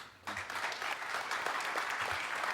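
Audience clapping at a Tri Cities Chamber of Commerce all-candidates debate in Coquitlam-Port Moody, a short burst of steady applause from a room of people that starts abruptly and holds.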